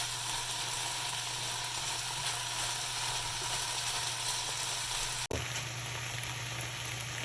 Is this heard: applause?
no